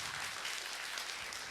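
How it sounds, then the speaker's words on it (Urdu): A festival show audience applauds for a band at an Eid ul Adha special event, producing a steady wash of clapping throughout that is moderately loud and heard at some distance. "آپ لوگوں سے میری ریکویسٹ ہے فہد اور چترال شفیق بینڈس کے لیے بھرپور تالیاں ہونی چاہیے"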